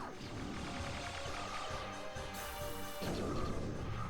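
A bomb blast in Star Fox 64 with a burst of crashing impacts that ends in a broad rumbling explosion, all set in dense game music and effects.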